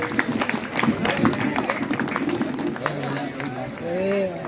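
An audience at a kavi sammelan poetry gathering clapping for poet Kavita Tiwari, a dense patter of applause mixed with crowd murmur, rising near the end.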